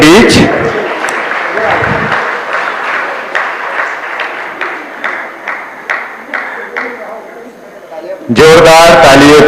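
Audience applause at a marathon prize distribution ceremony, a dense patter of clapping with sharp individual claps standing out, running steadily before a loud burst of other sound at the end.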